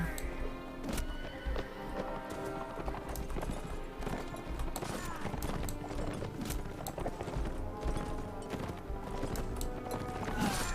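Horse hooves clip-clopping at a gallop in Mount & Blade: Warband, with whinnies amid busy battle sounds: rapid uneven hoofbeats, clanks and clatter layered densely throughout.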